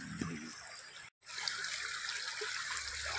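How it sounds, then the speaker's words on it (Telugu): Clean, clear mountain stream running through hills at Maredumilli, a close, steady trickling rush of water with one brief dropout near the start, no talking. "ఎంత స్వచ్ఛంగా ప్రవహిస్తున్న సెలయేరు ఇది."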